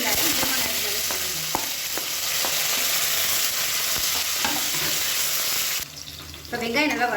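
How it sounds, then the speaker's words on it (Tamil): Big onions sautéing in a pan with curry leaves for a kushka lunch, a loud continuous sizzle broken by scraping stirs, then a short dip before the frying swells again. "இப்போ வெங்காயம் நல்லா வதங்கிடுச்சு"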